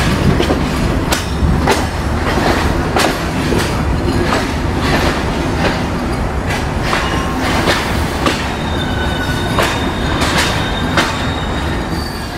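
The Rupsha Express intercity train rolls into Natore railway station: loud, close wheels clack in a steady rhythm over rail joints, with thin squeals and a continuous heavy rumble.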